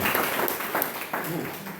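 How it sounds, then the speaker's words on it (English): A seminar audience at a self-discovery workshop breaks into applause, a dense, even roar of clapping hands that holds steady throughout the short moment. "So a big applause for you for being here and wanting to get to know"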